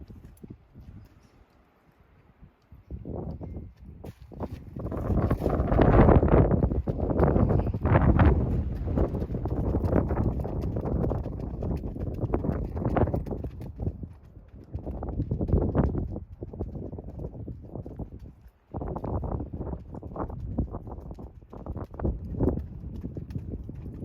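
Hooves of a Fox Trotter gelding clopping steadily at a smooth, even gait, close and fairly loud for most of the stretch, with wind buffeting the microphone and no clear talking.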